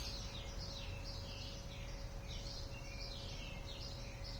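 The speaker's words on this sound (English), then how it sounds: "And I love all the birds you hear here." Birds chirping outdoors in spring, repeated faint high calls scattered across a steady background hum, distant and soft with no one talking.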